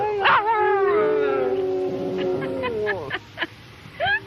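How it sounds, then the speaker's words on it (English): A dog howls on command in one long, close, wavering note that rises and falls, then breaks into a few short yips and whimpers. "This was a man who could get his dog to sing."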